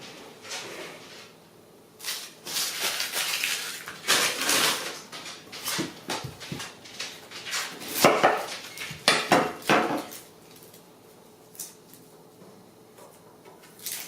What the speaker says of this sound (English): the first thing we're going to do is get our onions chopped up